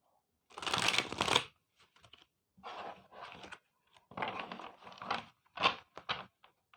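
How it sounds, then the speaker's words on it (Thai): Tarot cards are shuffled by hand in several separate bursts of riffling and flicking, close and crisp, with short pauses between rounds. "คือไพ่มันติดก็เลยต้องสับหลายรอบ"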